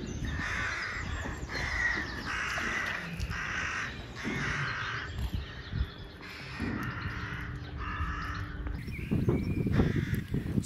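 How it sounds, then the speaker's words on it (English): Crows caw repeatedly in a dairy farm yard where they are feeding, a steady series of harsh calls at moderate distance over continuous outdoor background noise, with no talking. "there's always rich pickings for crows, so they're feeding in the yard at the moment"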